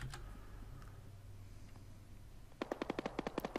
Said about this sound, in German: Wie laut sind die Schüsse?